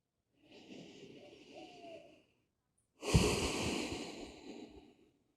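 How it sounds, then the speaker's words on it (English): A deep breath during a rooftop morning yoga session: a slow, close inhale, a brief pause, then a stronger, breathy exhale that fades away. "One more deep breath."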